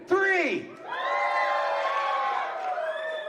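A block party crowd cheers, whoops and screams all at once, loud and sustained for several seconds, with children's shrieks rising above the roar.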